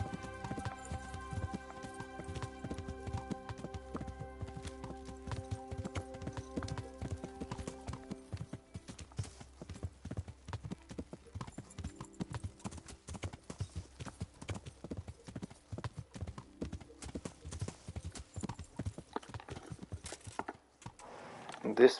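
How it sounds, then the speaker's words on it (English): Horse hooves clip-clop in a fast, steady rhythm for a long stretch in the video game Kingdom Come: Deliverance, with occasional talking and faint background music underneath. "Let me just get my horse to get there faster."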